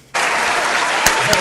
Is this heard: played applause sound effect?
yes